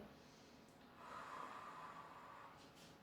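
Quiet, close breathing while holding a Pilates posture: one slow, airy breath swells in the middle and fades, with a faint intake at the very end.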